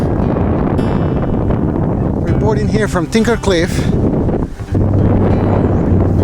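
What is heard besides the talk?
strong wind on microphone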